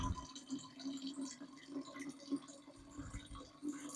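Liquid poured from a measuring cup into a water kefir fermenting container while making homemade soda, a steady close trickle with low splashing, no talking.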